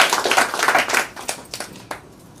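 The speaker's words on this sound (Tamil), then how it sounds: "இதுக்கே நீங்க பாராட்டு கொடுக்கணும்" A small audience claps briefly after a sanitary napkin demonstration, with a burst of scattered hand claps that thins into a few separate claps and then stops.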